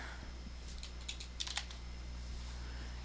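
Typing on a computer keyboard during level design work in a UDK game editor: a short cluster of quiet, quick clicking keystrokes, faint over a steady low hum.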